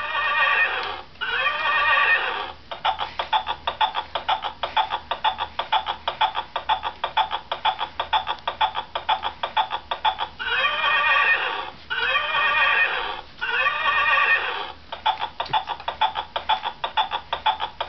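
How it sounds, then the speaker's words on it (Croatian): A horse ridden by a child whinnies loudly several times in long, shaky bursts, with steady clip-clop hoofbeats close by between and under the calls. "jaši konjića"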